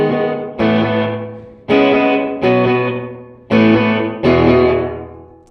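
An electric guitar runs through a Chase Bliss Dark World dual-channel spring reverb pedal set dark, with long dwell cut back. Six strummed chords ring out, each with a splashy, drawn-out spring-reverb decay. No voices are present.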